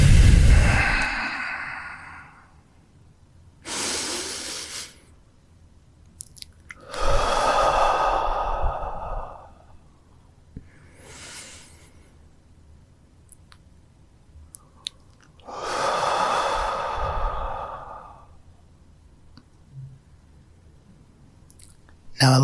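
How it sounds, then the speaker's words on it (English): Slow, deep diaphragm breaths during a guided relaxation, with several long inhales and exhales rising and fading in turn, close and fairly loud with quiet pauses between them. "We want to breathe all the way down into our belly, down to the diaphragm."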